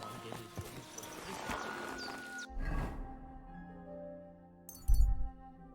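Horse hooves clip-clopping in the video game Kingdom Come Deliverance 2, faint and intermittent, mixed with light clinking sounds and a sharper thud near the end.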